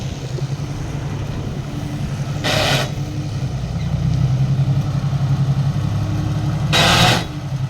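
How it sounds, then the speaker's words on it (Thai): A tractor engine runs steadily while it pushes soil down an old earthen bank, a low continuous rumble that swells and eases as the load changes, with two brief bursts of louder, harsher noise. "ฝั่งนี้ก็สามารถใช้รถไถ ดันลงได้ครับ"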